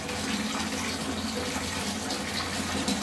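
Water runs steadily from a tap into a bath before bathing at home, a continuous broadband gush at even loudness throughout, with no voices.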